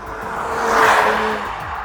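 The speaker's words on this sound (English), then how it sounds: "You can hear the engine breathe hard, you can hear all the intake noises" A Lotus Emira sports car engine breathes hard, its intake noise swelling into a loud, close roar and then easing off, heard alone without voices.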